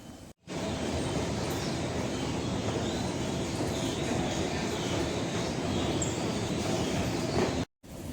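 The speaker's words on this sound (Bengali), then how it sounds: "ওই দিকের একটা ট্রেন আসছে দেখতে পাচ্ছ।" A Kolkata metro train approaches a platform on the underwater Howrah to Esplanade line, making a steady, loud rumbling roar that fills the space almost continuously, with brief cuts near the start and end.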